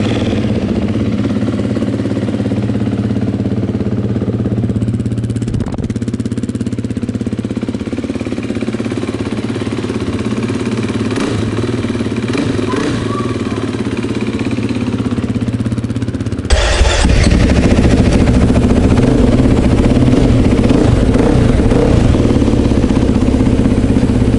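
Motorcycle engine running steadily and loud throughout, with clattering mechanical noise, then rising louder and rougher near the end.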